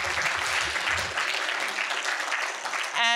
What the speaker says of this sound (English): Can we just please applaud one more time for Mr.